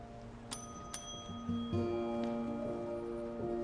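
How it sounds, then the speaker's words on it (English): A small metal bell on a shop counter rings a few times in separated bright dings, the tones ringing out and overlapping briefly in a quiet indoor room. "I think they need a bigger bell."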